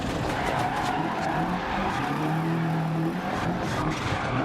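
Rally car in Dirt Rally 2.0 taking a snowy Monte Carlo hairpin in second gear, engine droning steadily with loud gravelly tyre skid and scrub throughout, close and continuous without talk.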